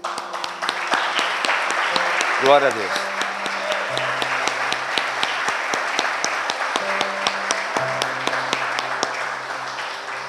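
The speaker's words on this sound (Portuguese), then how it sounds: "E as palmas louvam ao Senhor." Church congregation clapping through a sermon, a steady dense patter with sharp individual claps rising above it and a sustained voice and tones running beneath.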